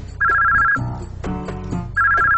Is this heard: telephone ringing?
yes